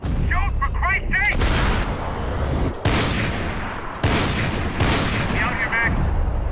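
Heavy gunfire in Max Payne 3 during a stadium chase, with loud repeated bursts and booming shots filling the scene, mixed with game voices shouting over the shooting.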